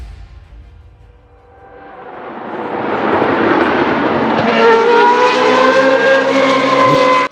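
A car speeding away in a chase, its engine swelling from a low rumble into a loud, sustained revving roar that holds steady as it pulls off, with a brief tire squeal.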